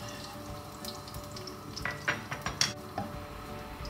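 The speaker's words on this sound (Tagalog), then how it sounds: "Kapag mainit na ang mantika, ay igisa na natin ang bawang." Garlic sautéing in hot cooking oil in a clay pot, a low steady sizzle with scattered clinks of a utensil against the pot and a few sharper stirring scrapes near the end.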